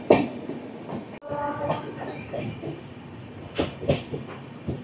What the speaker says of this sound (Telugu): మన ట్రైన్ అయితే ఇక్కడ ట్రాక్ చేంజ్ అయితే అవుతుంది